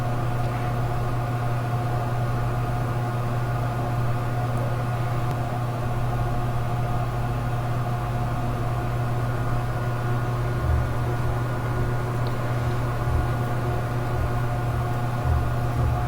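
A sewing machine hums steadily while stitching a baby's half pant, a constant mechanical drone with a low motor tone that runs without pause throughout.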